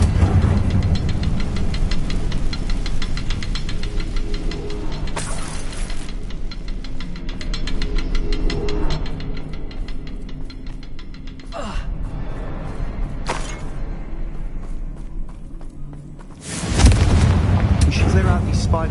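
Confringo blasting spell explosions in Hogwarts Legacy, with several sharp, loud bursts and the biggest blast landing near the end. A voice speaks over continuous rumbling game ambience.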